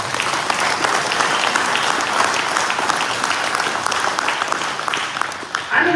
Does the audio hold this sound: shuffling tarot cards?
no